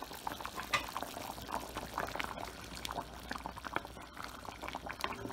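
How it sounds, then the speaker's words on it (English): Potato curry boiling in a covered pot gives off a close, steady bubbling and simmering, with small pops and gurgles scattered through it and no voices. "So it's boiling."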